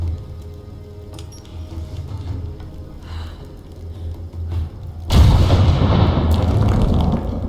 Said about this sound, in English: we should now be able to fire the grenade